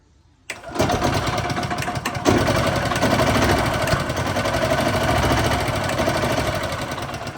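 An engine cranks and catches with a sharp start, then runs steady and loud with the throttle lightly opened, close by, vehicle not in gear.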